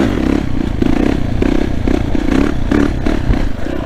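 Yamaha 450 YZF four-stroke dirt bike ridden off-road, its engine pulsing steadily and close with distinct low piston thumps, mixed with clattering and scraping from the terrain.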